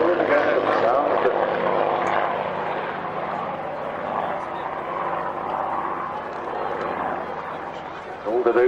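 A Hawker Hurricane fighter flies past at the Duxford Flying Legends airshow, its piston engine a loud, rough drone that swells and slowly fades while someone talks over it.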